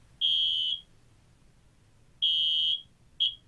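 An electronic alarm sounds in shrill bursts: two long even beeps about two seconds apart, then a short clipped one, over a quiet background.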